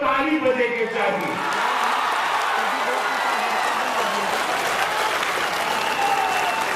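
Loud, sustained audience applause at a Chief Minister's project inauguration event, a dense continuous wash of clapping from a large crowd, with voices briefly audible at the start.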